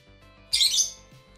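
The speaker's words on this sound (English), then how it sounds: "You can hear a fucking bird who can't shut the fuck up." A single bird gives a short, bright chirp indoors, brief and fairly close, standing out over a quiet background hum.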